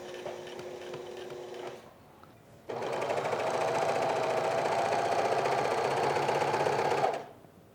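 A sewing machine stitches notches along the bottom hem of a white t-shirt, a steady fast mechanical whir in two runs, a short burst then a longer loud stretch, with a brief lull between.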